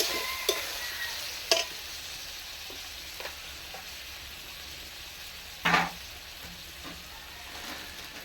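Spice masala for a singara filling fries in a pan with a constant close sizzle, punctuated by a few sharp scraping strokes of a spatula, including one louder stir near the end; no voices.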